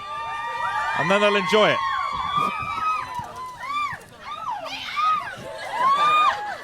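Fans cheer, scream and whoop as film cast members arrive, a crowd of many overlapping high-pitched yells rising and falling in bursts, with a voice speaking briefly among them.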